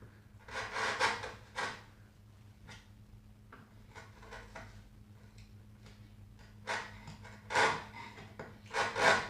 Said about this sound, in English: Cross grain shavings. Lets us know our chisel is properly sharp.